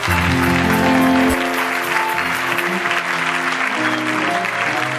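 A church congregation claps and cheers in sustained applause, loud and continuous throughout, with organ or choir tones sounding beneath for the first part before fading into the clapping.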